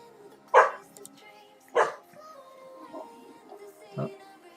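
A four-month-old puppy barks twice in quick succession, fairly close and loud, followed by a few softer yips and whimpering sounds spread over a few seconds, with no talking over them.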